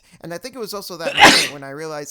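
A single loud sneeze bursts out in the middle of continuous conversational speech, with talking both before and after it.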